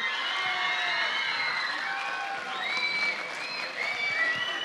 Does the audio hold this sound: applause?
yes